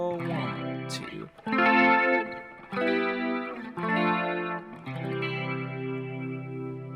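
An electric guitar played through mild distortion and a Leslie rotary organ-simulator effect rings out in several sustained, swirling chords, each left to decay before the next, with no talking.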